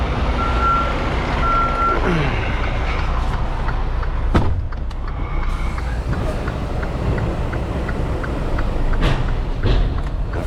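A semi truck idles while backing under a trailer at a Sam's distribution center. Two sharp metallic clunks from the fifth wheel pins locking stand out over the steady engine rumble, with a brief high beeping tone early on.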